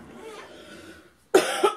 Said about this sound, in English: I cannot get rid of this stupid cough